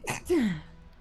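A single quick sneeze, short and sharp, followed by a falling breathy tail, heard close and fairly quiet.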